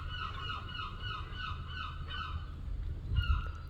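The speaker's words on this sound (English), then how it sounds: "That's loads of seagulls." Many seagulls in the UK call in a dense, overlapping chorus of repeated honking cries at moderate distance, over a low rumbling background with a brief thump near the end.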